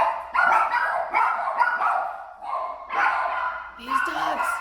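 Dogs bark in repeated bursts, some closer and some a little farther off, with a few higher yips near the end. A person talks in between and over the barking.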